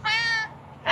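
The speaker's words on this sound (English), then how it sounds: "That's a crying meow." A cat lets out a single drawn-out crying meow, close and clear, followed by a brief sharper sound at the end.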